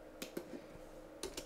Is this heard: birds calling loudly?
no